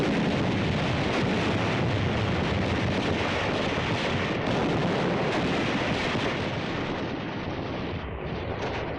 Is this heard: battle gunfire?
yes